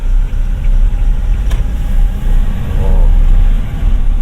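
A 2025 Toyota Tamaraw with a turbocharged 2.4-liter four-cylinder diesel drives along, its engine and road noise forming a loud, steady drone heard from inside the cabin with no talking.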